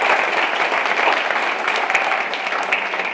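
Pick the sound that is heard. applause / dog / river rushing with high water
applause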